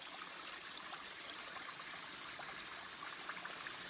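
Water flows through a PVC gold trommel sluice at a mining claim, a steady close trickling rush with faint splashy flickers, continuous and alone.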